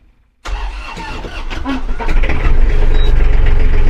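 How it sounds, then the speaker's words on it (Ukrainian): An Iseki Geas AT33 small tractor engine cranks and catches about half a second in, then settles into a loud, steady running rumble that grows slightly stronger. "Ось тракторець у нас запустився."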